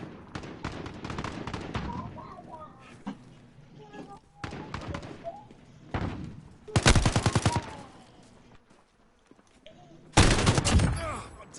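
Gunfire in Call of Duty: Modern Warfare: scattered single shots and short bursts, then two loud, rapid machine-gun volleys, with quieter gaps between them and in-game voices underneath.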